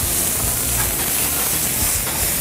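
Butter sizzling in a hot pan as it browns toward beurre noisette, a loud, continuous close hiss with no pauses and no talk.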